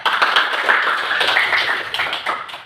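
A classroom of students clapping hands together in praise, a short burst of dense, close claps lasting under three seconds, fairly loud and without talk.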